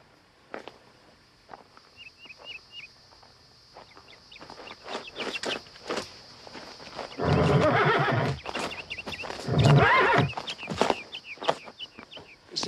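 A horse whinnies several times amid clip-clopping hooves and shuffling in the film Django Unchained, with clucking fowl faintly in the background; two louder, noisier bursts stand out midway.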